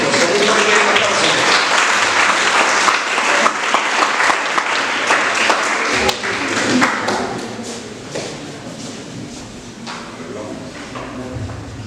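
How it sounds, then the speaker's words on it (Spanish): Audience applause welcoming the presenter at a book launch, loud close clapping with a few sharp taps and thuds that fades toward the end, with some voices in the room. "Lo recibimos con un primer aplauso."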